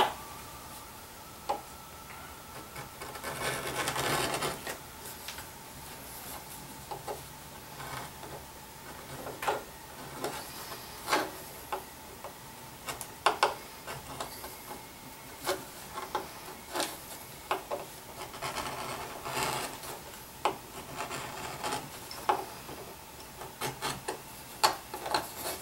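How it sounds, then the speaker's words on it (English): Edges of a leather belt loop for a flashlight case being beveled, a faint, steady scraping with irregular sharp ticks and clicks of the tool on the leather throughout, close and quiet, no talk. "I'm going to go ahead and bevel the edges on it as well."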